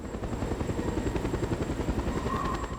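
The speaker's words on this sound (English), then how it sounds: "What's that helicopter?" Helicopter in the Just Cause 2 video game flying steadily, its rotor chop a continuous, fairly loud pulsing drone with no talk over it.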